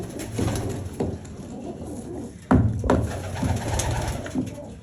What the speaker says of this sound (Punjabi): ਕਬੂਤਰ ਖੁਸ਼ ਹੋ ਕੇ ਖਾਂਦੇ ਆ ਰੋੜੀ ਹਨਾ ਜੱਗੀ